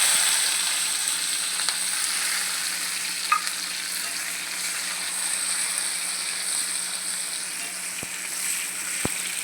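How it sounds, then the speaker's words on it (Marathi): Tomato and curry leaves fry in a pan with chili, turmeric, coriander-cumin powder and garlic-chili masala for an eggplant sabji, producing a soft, continuous sizzling hiss with a few faint clicks and taps. "आता आपण टॅमॅटो आणि कढीपत्ता घालू।"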